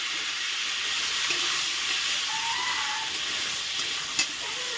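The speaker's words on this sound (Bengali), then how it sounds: "তেলের মধ্যে একটুখানি হলুদ দিয়ে ফুলকপিটা ভেজে নিব" A steady, hissing sizzle of cauliflower frying in oil with a little turmeric, moderately loud and unbroken, with a faint tap near the end.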